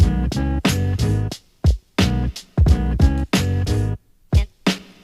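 Instrumental of a hip-hop track played from vinyl, with punchy chopped bursts of a harmonic sample separated by brief gaps and hard-hitting drums, loud and alone without talk.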